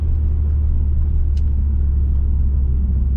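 A Vauxhall Vectra VXR engine fitted with a hybrid turbo, a deep steady rumble idling close by, loud and continuous with no revving change over a few seconds.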